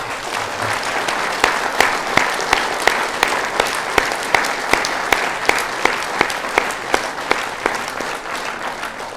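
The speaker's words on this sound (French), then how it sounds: "je vous demande d'applaudir Madame Gilbert Renaud" An audience at a mayor's New Year greetings ceremony breaks into sustained applause, a dense, steady clatter of many hands that holds at an even level throughout with no voices over it.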